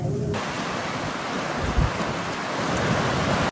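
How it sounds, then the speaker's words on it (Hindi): A dense, unbroken roar of strong wind and storm by the Indus River in northern Pakistan, heard as loud, steady broadband noise with a brief low thump partway through. "बहुत तेज़ हवा चल रही है जी और दूसरी तरफ से ही तूफ़ान आया हुआ है"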